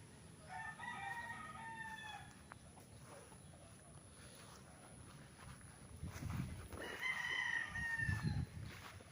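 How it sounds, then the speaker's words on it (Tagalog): Fighting roosters crow twice on a farm in Pagsanjan, Laguna, one call near the start and another later, over faint background noise and low rustling. "Daming manok, oh."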